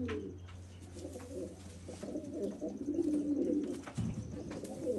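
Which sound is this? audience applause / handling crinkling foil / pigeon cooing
pigeon cooing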